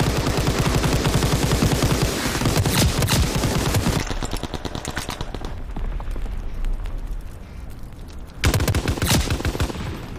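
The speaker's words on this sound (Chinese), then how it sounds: "机枪哪那么强" Machine gun fire in the Call of Duty WWII beta, loud sustained bursts at the start, a quieter stretch of scattered distant shots, then another close burst near the end.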